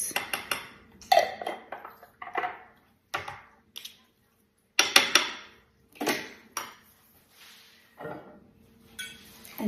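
A spoon clinks and scrapes against a bowl while sauce is stirred for a salmon bowl, giving irregular close-up taps and rattles with brief pauses between bursts.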